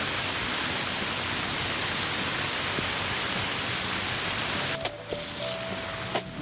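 Heavy rain pours down steadily at a lakeside campsite in Lake Anna State Park, Virginia, a dense continuous hiss that fills the scene, with a few brief clicks and a faint tone appearing near the end.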